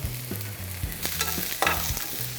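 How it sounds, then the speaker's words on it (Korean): Onion, carrot and celery fry in a hot pan, giving a steady, close sizzle with occasional stirring scrapes throughout and no talking. "달궈줬으면 양파부터 넣어보도록 하겠습니다."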